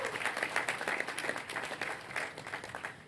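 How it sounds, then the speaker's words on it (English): An audience claps for Ellen, a guest's wife, at a groundbreaking event, with steady, moderately distant applause filling the room alone for a few seconds. "we can clap for Ellen"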